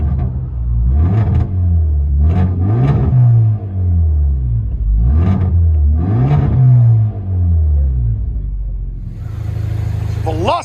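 A 2015 Hyundai Veloster Turbo with straight pipes and blast pipes, heard from inside the car, revving hard in repeated loud bursts that climb and drop back to a deep rumbling idle.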